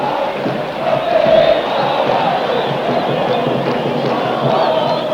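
A football crowd of around 50,000 roars in the stadium in Asuncion during a Paraguay–Colombia match, sustained and loud, with swelling cheers and chanting throughout.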